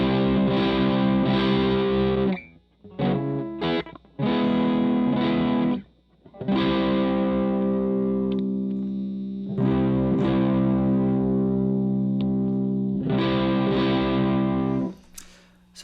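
Distorted electric guitar with a cheap ceramic 1000 pF treble bleed capacitor, loud chords played in several sustained bursts separated by short gaps, with effects and light reverb, no talking.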